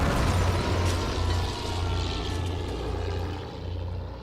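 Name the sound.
German bomber airplanes flying over Paris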